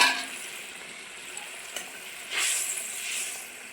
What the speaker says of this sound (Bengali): মাছগুলো দিয়ে একবার নাড়িয়ে নিলাম।